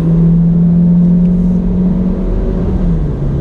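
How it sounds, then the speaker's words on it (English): A 2019 Hyundai Elantra GT N Line under hard acceleration, a loud steady engine drone heard from inside the cabin that holds its tone, then dips slightly as the transmission shifts. "Let me go ahead and get on the loud pedal. Drops down. Shifts are smooth."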